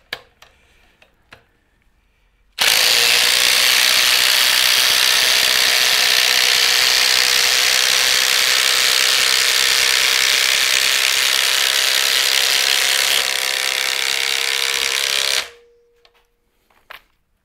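A powerful Bosch Profactor drill drives 10-inch HeadLok structural fasteners, whirring loudly and steadily for about thirteen seconds, then stops abruptly, with quiet handling noises before and after.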